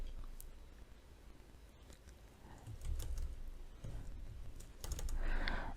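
Quiet typing of code on a computer keyboard while building an Angular form, with scattered soft key clicks that thicken into denser bursts toward the end, faint and close with no talking.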